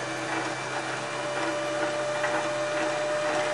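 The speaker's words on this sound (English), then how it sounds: "So as you can see, we're now getting that threaded onto the bobbin." A sewing machine winding thread onto its bobbin, a steady mechanical whir with a constant hum, close and uninterrupted.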